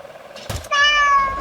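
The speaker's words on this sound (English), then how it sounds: "Meow." A cat's meow rings out from a video game session, a clear tonal cry with harmonics held for under a second after a short burst of noise.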